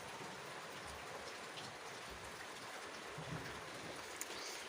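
Steady rain falling, a dense even patter that holds for the whole stretch with a few louder drops near the end, heard alone without voices.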